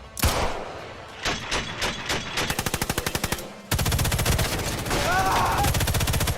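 Rapid automatic gunfire from the Sniper Elite 5 video game trailer, scattered shots building into fast even bursts, then a louder, denser volley that runs to the end.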